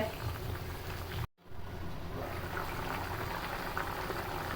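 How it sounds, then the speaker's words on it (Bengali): Potato and country chicken curry broth simmers in a pot, a continuous soft bubbling wash close by, briefly cut out near the start, with no talk. "আমাদের তরকারির ঝোল ফুটতে শুরু করেছে।"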